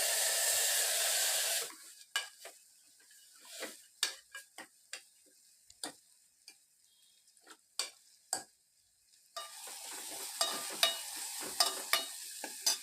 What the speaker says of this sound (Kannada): ಇವಾಗ ನಾನು ತೊಳೆದಿಟ್ಕೊಂಡಿರೋಂಥ ಮಟನ್ನ ಹಾಕ್ತಾಯಿದ್ದೀನಿ